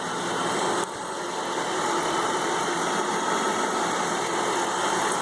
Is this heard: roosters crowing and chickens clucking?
no